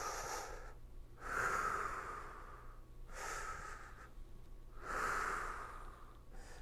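A person breathing in and out during a spine strength and stability exercise, slow audible inhales and exhales in about three cycles, close and fairly quiet, with no talking.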